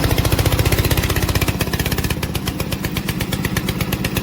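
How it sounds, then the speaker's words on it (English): A VTC550-90 remote control lawn mower's engine runs after a push-button start, a loud, close, rapid chugging beat that keeps going steadily throughout. "Press this button to start the engine."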